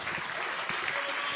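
Crowd applause at a birthday felicitation and political speech event, dense steady clapping filling the whole moment at a fairly even level.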